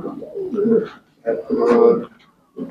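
Pigeons at a fancy pigeon seller's farm coo close by in three throaty, rolling bursts separated by short pauses.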